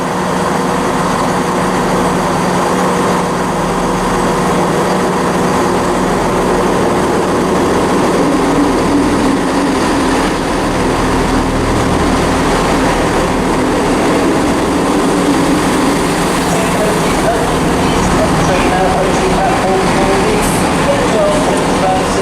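Transport for Wales class 158 diesel unit 158837 at Shrewsbury station, a steady loud rumble of an idling or slowly moving train close by, continuous throughout, with a voice talking over it.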